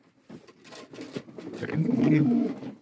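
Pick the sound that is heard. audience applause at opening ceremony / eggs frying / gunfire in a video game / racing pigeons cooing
racing pigeons cooing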